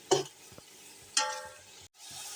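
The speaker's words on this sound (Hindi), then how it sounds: "मसाले को अच्छी तरह भून लेना है। टमाटर जो हैं ये भी सॉफ्ट कर लेने हैं।" Spices and tomatoes are fried and stirred in a pot for beef pulao masala. Two sharp, close scraping strokes stand out over a faint background sizzle.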